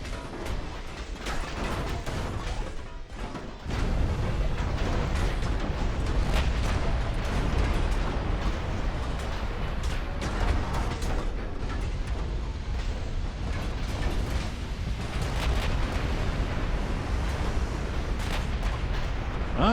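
Dense, continuous rumbling battle audio from the naval combat game Ultimate Admiral: Dreadnoughts, with 1940-era battleship guns booming and torpedo hits mixed into an unbroken roar.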